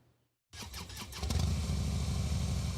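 A quiet moment gives way to a sudden roar of many motorcycle engines, loud and sustained, rumbling together as a crowd of bikes rides past close by at a Memorial Day weekend motorcycle rally in Washington, D.C.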